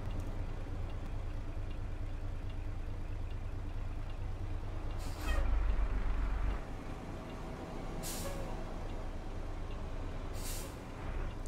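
A truck with a Cummins ISX engine in American Truck Simulator rumbles steadily with a low drone, a deeper surge midway, and several sharp hissing air-brake bursts spaced apart, with no talking.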